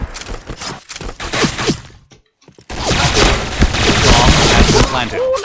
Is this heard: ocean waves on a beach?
no